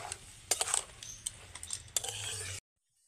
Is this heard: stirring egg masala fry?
yes